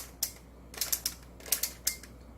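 A Diamond Skewb twisty puzzle is turned by hand, giving quiet plastic clicks and short rattling snaps in irregular bursts, close and faint.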